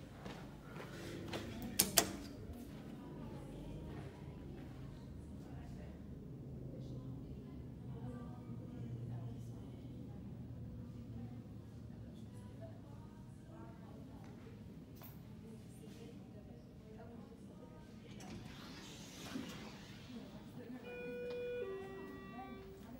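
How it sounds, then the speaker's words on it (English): Schindler 330A elevator at Kohl's in the Newport Centre Mall, Newport, New Jersey, running with a low steady motor hum, mechanical clunks and a chime, quiet and indoors, while someone talks over it. "the elevator at Kohl's at the Newport Center Mall in Newport,"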